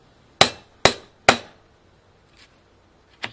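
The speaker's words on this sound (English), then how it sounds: "I'm going to do three solid hits with my hammer" Hammer striking a metal letter stamp into a copper blank for a necklace: three sharp, evenly spaced metallic hits close by, followed by a faint tap and one lighter knock.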